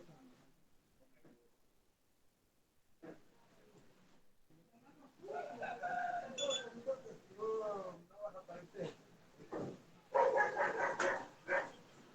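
A small female dog barks and yips, with near-quiet at first, then a series of louder harmonic barks and whimpers in irregular bursts, with room sounds around them.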